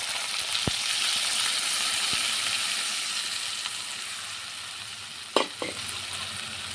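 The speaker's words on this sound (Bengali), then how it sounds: "মাছটা হালকা ভাজা হয়ে গেছে, আর এখন আমি সর্ষে আর নারকেলটা একসঙ্গে মিশিয়ে নিয়েছি, এখন দিয়ে দেব।" Fish frying in a pan before mustard and coconut paste goes in, for a Bengali prawn-in-coconut dish: a steady, close hiss of sizzling oil with a few sharp clinks and a louder metallic knock near the end.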